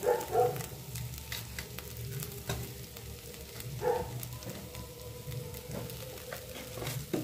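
Ground spices with chili powder, turmeric, salt and a little sugar fry in oil for a paneer and cauliflower curry, giving a quiet steady sizzle with occasional stirring scrapes and taps.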